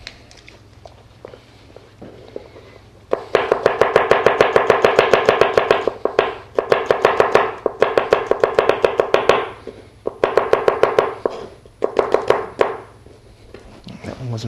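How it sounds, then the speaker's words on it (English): Unpeeled garlic being minced with a knife on a cutting board, a loud, close, rapid rocking chop in several long bursts separated by short pauses, with a voice speaking briefly at the start and between bursts. "I'm going to just mince up some garlic."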